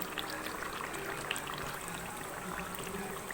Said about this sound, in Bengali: এবার আমি এতে 1 চামচ মতো ঘি দেবো।